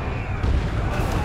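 In the Dawn of War II: Retribution strategy game, a Fire Prism and D-Cannon unleash heavy, deep booming blasts that roll together into a dense, continuous barrage.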